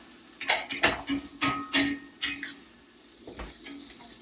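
Onions, carrots and peppers sizzle in oil in a pan, with a series of sharp utensil scrapes and clinks in quick succession that fade into a soft, steady sizzle.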